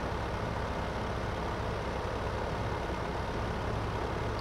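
In a farming video game, a Ford tractor engine strains as it pulls a partly loaded trailer, giving a continuous, dense, loud low drone with no breaks and no talking.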